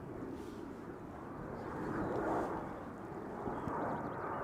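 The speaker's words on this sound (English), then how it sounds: "There's also a bizjet taking off from center by the looks of it." A business jet takes off at Schiphol Airport, its engines a continuous distant rumbling roar that swells slightly and then holds, heard alone without talk.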